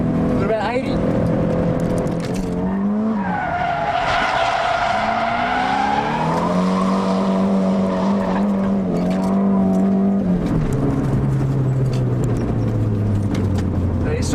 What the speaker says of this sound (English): we're going to try the clutch kick. A bit faster this time. Still go to second gear.